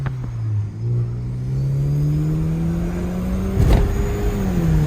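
A turbocharged Kia car's engine drones steadily from inside the cabin with the window down, its pitch shifting through gear changes, and a short, sharp hissing burst of turbo blow-off breaks through near the end.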